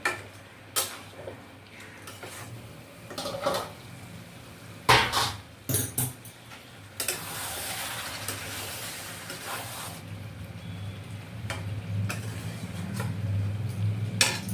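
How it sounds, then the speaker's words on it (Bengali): Potatoes are stir-fried with spices in a pan for a mutton dish, heard as irregular spoon scrapes and knocks against the pan followed by a steadier sizzle, close by with no talking. "এবারে আলু সমেত এটাকে একটু কষিয়ে নেবো"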